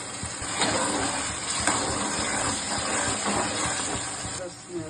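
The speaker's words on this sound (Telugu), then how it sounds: "ముందుగా కట్ చేసిన టమాటాలు వేసుకోవాలి వచ్చేసి కొద్దిగా సాల్ట్ వేసుకుంటే కొంచెం మంచిగా ఉడుకుతుంది" Chopped tomatoes with a little salt cooking in a hot pan for a fish and taro curry, giving a steady loud hiss and sizzle that runs throughout with faint background clatter.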